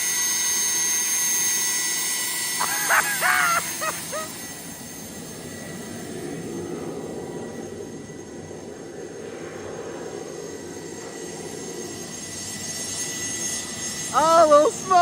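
A jet turbine engine fitted in a Chevrolet Camaro idles with a steady, loud, high-pitched whine and broad roar throughout, while people talk briefly over it near the start and end.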